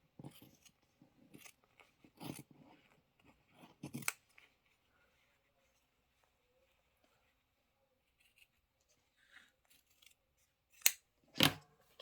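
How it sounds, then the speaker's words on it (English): Scissors snip fabric for a Santa cinch sack in short, quiet clusters of crisp cuts separated by long pauses, with two sharper snips near the end. "I usually cut this, where are my favorite scissors?"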